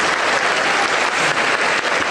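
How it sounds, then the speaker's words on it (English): Guests at the First Lady's Luncheon applaud distinguished guests and junior hostesses, a loud, dense burst of many hands clapping steadily in a large room. "please give a round of applause for our distinguished guests and junior"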